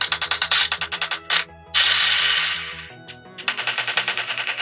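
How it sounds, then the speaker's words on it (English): Rapid bursts of automatic gunfire come from a mobile shooter game played on a Huawei P Smart 2021 phone speaker, loud and rhythmic, broken by a brief pause and a sustained whooshing blast before the firing resumes. "that sounds more or less like a gun"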